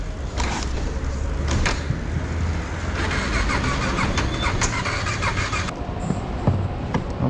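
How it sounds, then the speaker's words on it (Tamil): A KTM Duke 390 motorcycle that will not start on a trip toward Sarchu, with engine cranking and mechanical noise running continuously under broadband roar, loud and close, with a few sharp knocks along the way. "ஏன் ஸ்டார்ட் ஆக மாட்டேங்க வண்டி?"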